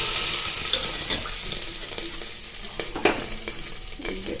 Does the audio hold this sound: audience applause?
no